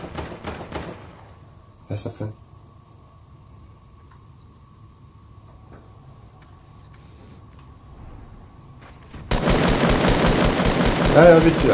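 Shooter video game gunfire: a brief early burst, then a long quiet stretch with a faint hum, before a loud sustained rapid volley of automatic fire near the end.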